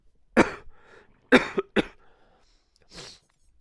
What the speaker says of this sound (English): I might have a little bit of a cough. I apologize about that.